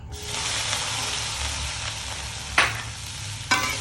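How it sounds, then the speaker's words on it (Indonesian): Thin strips of tempeh fry in hot oil in a pan, giving a steady close sizzle broken twice by short clatters of stirring. "Tempe yang sudah saya potong kecil-kecil seperti ini, kecil-kecil memanjang, segera saya goreng"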